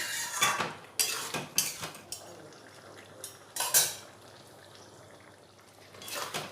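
A spoon clatters and scrapes repeatedly against a pot as a vegetable curry of pumpkin stems, potato and brinjal with prawns is stirred, giving irregular metallic knocks and scrapes followed by a quieter simmering stretch.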